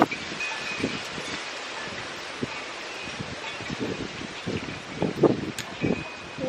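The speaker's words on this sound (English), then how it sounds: "sorry if it's super windy. It's Nebraska, so anytime I go outside it's windy." Outdoors in Nebraska, a steady gusty wind roars and buffets the microphone, with soft low thumps and rustling throughout and no talking.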